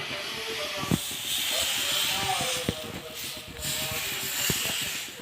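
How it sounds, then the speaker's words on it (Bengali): Batter for patishapta pitha hits a hot griddle (tawa) and hisses steadily, with small clicks and scrapes of a ladle spreading it, under a person talking. "আমি তাওয়াতে এই বেটারটা দিয়ে দেব"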